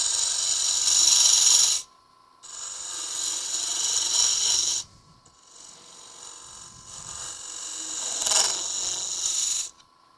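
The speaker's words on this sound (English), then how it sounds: "So just going to finish hollowing this." Hollowing the inside of a wooden lidded box on a lathe makes a harsh, hissing scrape that comes in three long passes with brief gaps between them.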